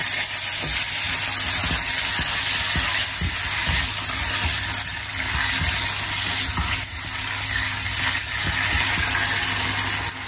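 Yogurt sizzles and splatters in a hot pan as a constant loud frying hiss, with scattered pops and crackles, nearby and without talking.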